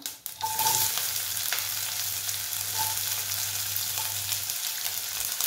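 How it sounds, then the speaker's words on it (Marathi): Mustard seeds, cumin and onion fry in hot oil in a kadhai, giving a continuous bright sizzle. A few soft stirring taps are heard over a low steady hum. "तेल गरम करायला ठेवले, त्यात मोहरी टाकली होती आणि त्यातच थोडेसे जिरे,"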